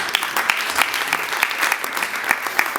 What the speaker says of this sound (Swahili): Pige makofi kwa Bwana Yesu.